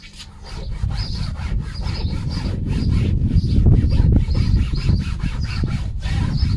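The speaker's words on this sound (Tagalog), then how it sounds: "Babrushin pa natin." A brush scrubs hard and steadily across a salt-treated stain in rapid back-and-forth strokes, loud and close, with a continuous rhythmic rasp and no talking.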